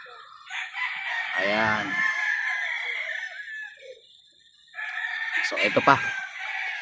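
A game-farm rooster crows twice, a loud close cock-a-doodle-doo near the start and another a few seconds later, over a thin hum of background noise, with someone speaking briefly between the calls.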